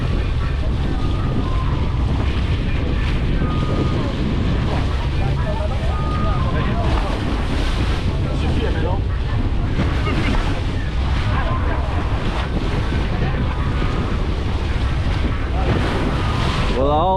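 Waves splash around a catamaran at sea off Mauritius as strong wind buffets the microphone, a loud, steady wash of water and gusts continuing throughout with muffled voices underneath.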